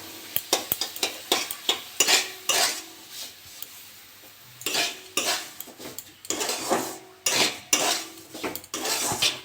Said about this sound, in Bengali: আমি এবার সুজিটা ঢাকবো অল্প অল্প করে আর মেশাবো।